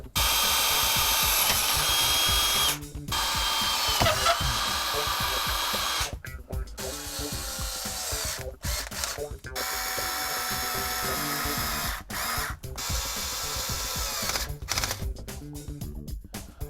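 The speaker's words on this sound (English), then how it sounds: "we can put the wheelie bar back into place with the 2 screws on the bottom" A power driver whirs in repeated bursts, driving the two bottom screws that mount a wheelie bar on an ARRMA Kraton/Talion RC car, with short pauses between loud, close runs and no talking.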